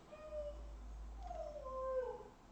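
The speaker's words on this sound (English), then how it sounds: "Apologies for puppy howling in advance." A puppy howls indoors, with a faint, thin, wavering cry that rises and falls in two drawn-out notes against a steady low hum.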